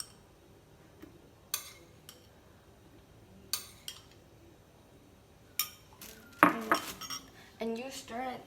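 Spoon scraping and clinking against a metal pot while stirring macaroni pasta in milk on a gas stove, sparse knocks at first, then a denser burst of clattering and scraping near the end.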